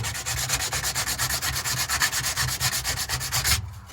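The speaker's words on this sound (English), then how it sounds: "I just got some 80 grit sandpaper" Hand sanding with 80 grit sandpaper during a BMW E36 exhaust installation, a rapid rhythmic back-and-forth scratching, close and steady for several seconds before stopping.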